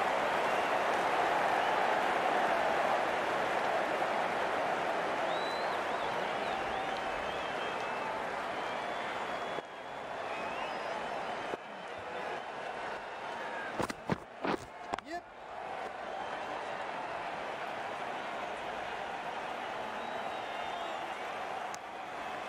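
A cricket crowd at a NACO match between the Houston Stallions and Dallas Classic applauds a shot, steady broad clapping sustained throughout, with a commentator talking over it and a few sharp knocks near the middle.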